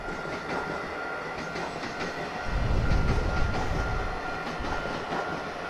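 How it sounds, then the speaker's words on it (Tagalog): A train passes near a station in Houkou, Hsinchu, Taiwan, its steady rumble swelling loud midway and fading slightly while wheels rattle over the rails, with no talk over it. "Dadaan na train."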